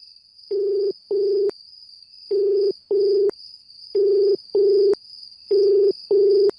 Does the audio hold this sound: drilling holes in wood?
no